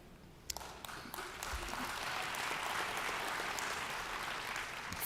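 Audience applause following a speech at a Never Is Now 2024 event, a sustained wash of clapping that swells after a few sharp early claps and holds steady at moderate distance, with no talk over it.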